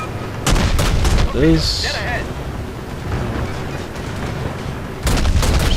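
Naval guns firing on a tier IV Russian destroyer, the Izyaslav, in World of Warships: loud booming salvos at the start and again near the end, with someone talking briefly in between.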